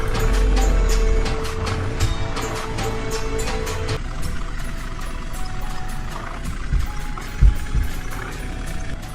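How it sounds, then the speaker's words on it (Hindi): A truck in the Indian Vehicles Simulator 3D game rolls up to a showroom with a steady engine drone, which thins out into rougher rumbling and a few thumps as it arrives. "ट्रक वाले भैया शोरूम की तरफ आ चुके हैं।"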